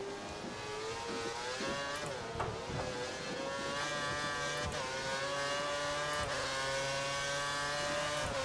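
Formula 1 cars in the F1 2013 racing game at the German round, engine whine climbing steadily as one car accelerates hard, sustained and loud with gear-change dips and faint tire noise.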